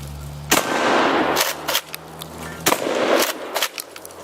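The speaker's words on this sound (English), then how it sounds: "We'll shoot the big one there." UTS-15 pump shotgun fired at targets outdoors: two or three sharp, loud blasts spaced about a second apart, with a faint hum and a few mechanical knocks between them.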